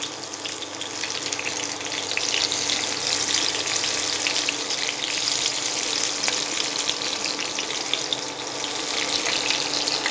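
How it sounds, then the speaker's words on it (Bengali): Eggplant pieces frying in hot mustard oil in a wok over medium heat, a dense, even, steady hiss of sizzling oil that stays loud and close throughout. "হিট মিডিয়ামে রেখে বেগুনের দু পিস আমি ভালো করে ভেজে হালকা ব্রাউন কালার আসা পর্যন্ত ফ্রাই করতে হবে"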